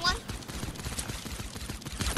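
Rapid gunfire from a weapon in the video game Fortnite pops in a fast, uneven burst of shots under a player's voice talking over the game audio.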